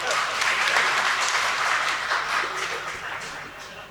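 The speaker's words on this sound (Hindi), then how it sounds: "आप इसी बात पे ताली बजा सकते।" An audience at a mushaira in a dharamshala in Shajapur claps steadily, a dense, sustained round of applause that gradually eases off toward the end.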